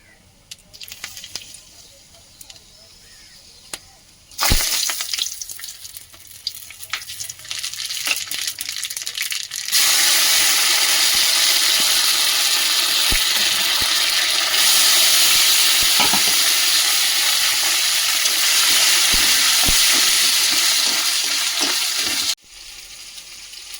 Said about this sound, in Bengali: টমেটো কাঁচা লঙ্কা শুকনো লঙ্কা আর জিরে তেজপাতা আর একটু আদা বাটা দিয়ে ডালটা ফোড়ন দেবো তেল দিয়ে দিয়েছি